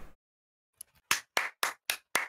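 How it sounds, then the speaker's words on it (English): Hand claps from a gamer getting ready for a Valorant match: five sharp, evenly spaced claps, close and fairly loud, after a brief faint rustle and a couple of quieter taps. "I'm just clapping because I'm getting ready for one"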